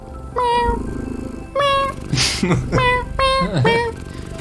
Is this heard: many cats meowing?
yes